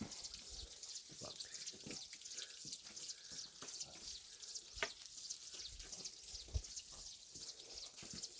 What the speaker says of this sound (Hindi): इनका पानी जो है वो इस तरह यहाँ से काफ़ी चलता रहता है।